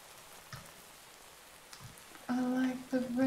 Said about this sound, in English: Usually the Minecraft rain is like nerve-wracking.